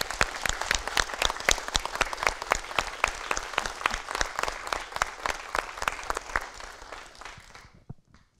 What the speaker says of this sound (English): applaud to all of you. Yeah, applaud.